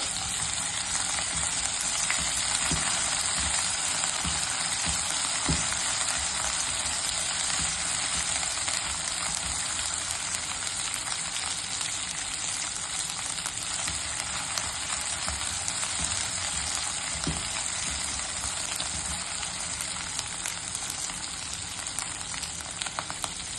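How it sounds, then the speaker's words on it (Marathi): Chilli kharda paste fries in oil with garlic for a fenugreek curry, sending up a dense, continuous hiss and sizzle with a few soft stirring knocks, no voices. "मिरचीचा खरडा परतला गेला आहे"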